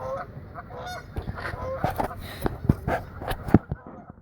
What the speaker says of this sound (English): Duck and goose might fight.